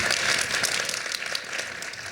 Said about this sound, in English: First, I'd like to ask you to give our candidates a round of applause for being here.